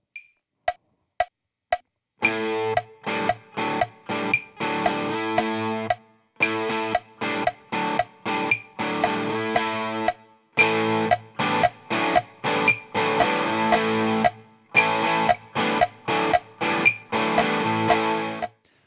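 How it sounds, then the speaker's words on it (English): Two electric guitars play chords together in steady rhythmic chords, one with a bright distorted tone, repeating in short bursts with brief pauses between phrases. "when they're played together, you hear a combination of everything"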